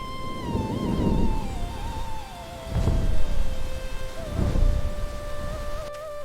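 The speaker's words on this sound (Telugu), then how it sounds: "పిడుగు మ్రోగింది." Deep rumbling bursts of thunder roll in three waves over steady rain, with a sustained tonal drone running throughout.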